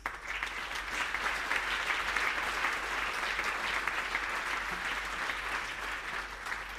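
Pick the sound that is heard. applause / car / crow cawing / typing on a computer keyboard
applause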